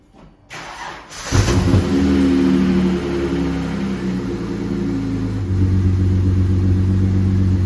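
A car engine freshly filled with semi-synthetic oil cranks briefly, catches, and settles into a steady loud idle close by, its pitch dropping slightly after a few seconds.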